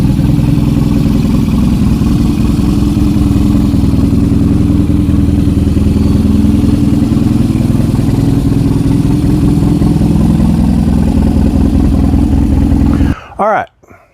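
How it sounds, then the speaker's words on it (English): A BMW R nineT motorcycle engine idles smoothly and steadily up close, a loud even throb that runs continuously before cutting off abruptly near the end, leaving a few brief clunks. "It's got a nice smooth idle."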